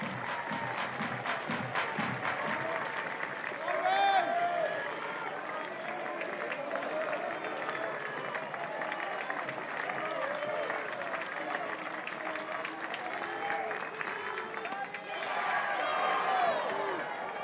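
Crowd clapping in the stands at a college softball game, Florida State against Wake Forest, a steady mass of applause and cheering with a broadcast commentator talking over it.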